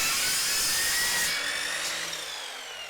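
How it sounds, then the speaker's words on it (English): A Tacklife EMS01A compound miter saw cuts a PVC railing spindle, its blade screaming loud and close in a high whine that slowly winds down over a few seconds. "I got a PVC railing spindle right here that we're going to go ahead and cut."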